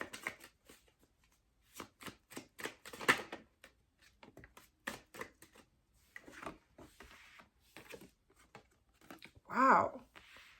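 Tarot cards are shuffled and riffled in a quiet room, giving a run of soft, quick papery flicks and taps with brief pauses and one louder burst near the end.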